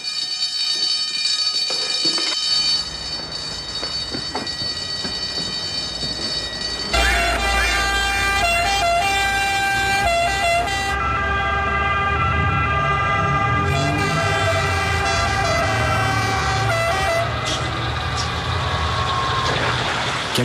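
A fire alarm tone followed by a fire engine siren at the Vatican fire station during a call-out, sustained, loud and continuous with shifting pitch over a rumbling engine or rail-like background, with no talking.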